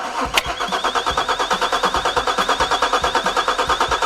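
A Peugeot 406 V6 engine cranks on the starter during a compression test, giving a loud, steady, rapid rhythmic chugging that never catches and runs throughout, with no talk.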